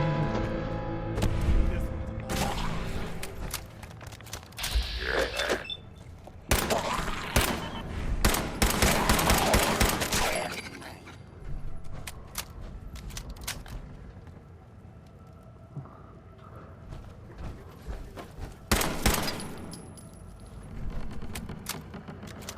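Gunfire in the video game Fallout 4 comes as bursts of rapid shots and sharp single cracks, loud and close, with quieter stretches between volleys and a little talk in places.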